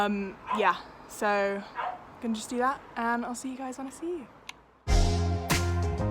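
Someone talks while a dog yelps and whines nearby, and a loud burst of barking cuts in near the end.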